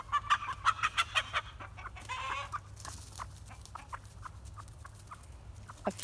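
Backyard chicken flock clucking in a rapid series of close, loud calls, then scattered softer clucks from several birds over a steady low hum.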